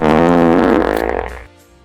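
A loud, buzzy fart sound effect with a rising, bubbly tone plays on its own for about a second and a half, then trails off quickly.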